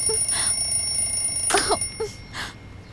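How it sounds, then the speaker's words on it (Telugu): A phone alarm goes off beside a sleeper, repeating bright electronic beeping tones in short bursts that fade slightly, sounding over a faint background hum. "నీ పక్కనే కదా ఫోన్ అలారం కొడుతోంది"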